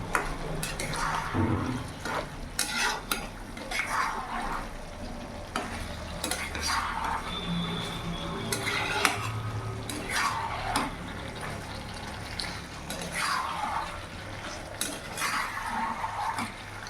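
Chicken curry being stirred and sautéed without water in a pan, with repeated close scraping and clattering of a spoon against the pan over a constant crackling sizzle.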